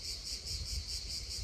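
Cicadas sing in dense, steady high-pitched droning in the Massif du Cap Garonne, pulsing slightly in waves, distant and unbroken, with no voices.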